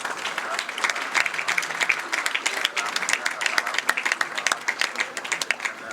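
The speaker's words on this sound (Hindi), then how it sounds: "जोरदार तालियां" Loud, sustained applause from a large audience at a public speech event, with dense, uneven clapping that rolls on steadily throughout.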